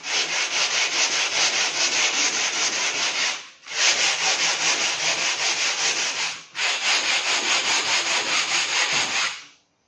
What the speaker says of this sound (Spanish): vamos a dar un poquito de lija para quitar las rebabas de la fibra de vidrio